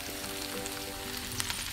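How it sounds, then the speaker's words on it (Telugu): Tomato pieces fry in oil with onion and green chillies, a close, steady crackling sizzle with scattered sharper pops over a brief stretch, no talking. "అవి మగ్గాక దాంట్లో టమాటా ముక్కలు వేస్తున్నాను"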